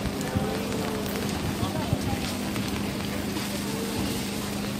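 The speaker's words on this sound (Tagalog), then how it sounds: "Maski umuulan, papayungan ko kayo." Rain falls outdoors around a secondhand clothing market, a dense steady patter on surfaces with scattered heavier drops, continuous and fairly close beneath a low background hum.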